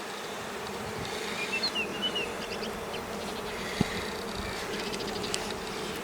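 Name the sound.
honey bees buzzing around the hive frames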